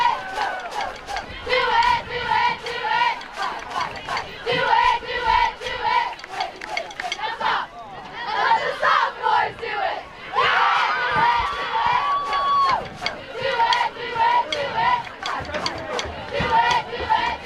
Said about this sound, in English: It's good to see them still cheering.